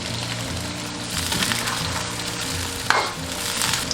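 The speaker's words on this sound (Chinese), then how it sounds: "开始炸，油温烧至6成热就可以下入鱿鱼" Squid pieces deep-fry in hot oil over high heat for salt-and-pepper squid, giving a steady, close sizzle with stirring clinks and a sharp pop near the end.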